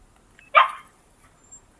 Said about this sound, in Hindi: क्यों भौंक रहा है तू?